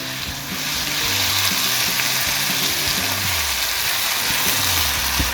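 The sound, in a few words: peas added to a pan of spiced beef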